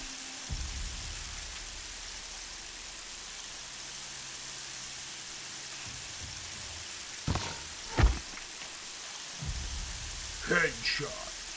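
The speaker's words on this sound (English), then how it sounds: "Sounds like sleet." Steady sleet coming down in the video game Horizon Zero Dawn during a snowy bandit encounter, a continuous hiss of falling precipitation with a few brief thumps and voice sounds over it.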